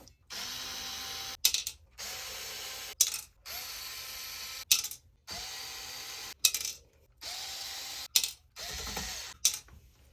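Screws are backed out of the plate on a Tascam 688 multitrack recorder, heard as a repeating cycle of close, steady mechanical whirring bursts, each ending in a sharp click, with short quiet gaps between them.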